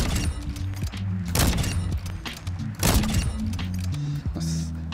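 Intervention sniper rifle firing on a Call of Duty shooting range, two heavy sharp shots a little over a second apart, each followed by a mechanical bolt-cycling clatter and a low game hum.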